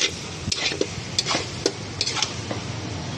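A spoon scraping and stirring potato curry (niramis pepe aloo sabji) in a pan, with soft intermittent clinks and light sizzling, close by and alone, at a steady irregular rhythm.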